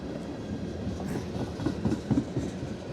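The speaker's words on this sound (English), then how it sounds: "you'll see where the train's taking the cutoff here at the Mortons Junction" A train rolls past on the Henderson Subdivision at Mortons Gap, Kentucky, a steady rumble with clickety-clack from the wheels, no talk.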